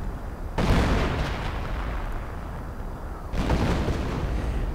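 Video game artillery barrage with two loud broadband booms, one around half a second in and another near three and a third seconds, each rolling into a sustained rumbling wash of blasts and debris.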